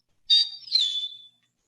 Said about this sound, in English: the eastern meadowlark has a shorter kind of 2-whistle call